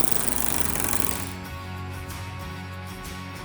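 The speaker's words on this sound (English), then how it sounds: "We're going to tighten our channel hardware with our 1/2-inch socket." A power tool with a 1/2-inch socket rattles as it tightens channel hardware bolts on a spare tire mount for a Polaris Ranger XD1500, a continuous loud whirring that steadies and drops slightly partway through.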